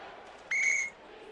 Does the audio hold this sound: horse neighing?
no